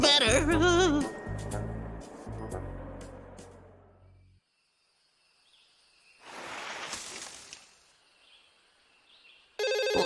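A cartoon telephone rings in bursts with a warbling electronic trill, heard after a stretch of cartoon music and noise, with a quiet gap between rings and another burst starting at the end.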